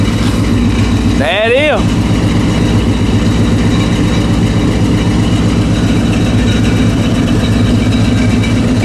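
A Chevrolet C10 truck engine idles with a loud, steady low rumble throughout, close by, with a brief voice and a short rising whine early on.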